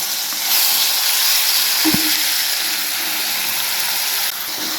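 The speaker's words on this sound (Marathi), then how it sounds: "आणि आता आपण वाटलेलं सगळं टोमॅटोची चटणी टाकायची." Ground green tomato chutney hitting hot oil with a hing tempering, a steady loud hiss of sizzling frying, with one brief clunk as the paste goes into the pan.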